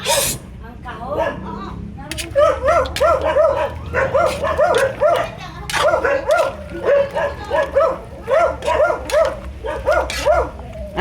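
Several pet dogs bark and yip in quick repeated bursts, fairly close and loud, with whimpering yelps between barks in a home kitchen.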